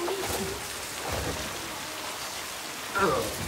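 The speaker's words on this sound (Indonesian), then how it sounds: "Hujan kemudian turun membasahi jalanan sepi" Steady rain falling on an empty street, a continuous broadband hiss with a slightly louder patter near the end; faint background sounds mixed in.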